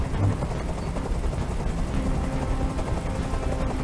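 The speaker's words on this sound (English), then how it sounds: "Tell that helicopter to get out of here!" A helicopter in the video game Detroit Become Human gives off a steady, loud rotor roar with a dense low rumble, continuous and unbroken for the whole stretch, with no talk over it.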